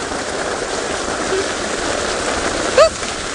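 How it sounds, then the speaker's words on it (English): Heavy rain pours steadily all around an open safari vehicle on an evening drive at Xidulu, a dense even hiss that fills the whole clip with no talk over it. "I'm just gonna stay quiet for about 10 seconds so you can hear the rain all around us"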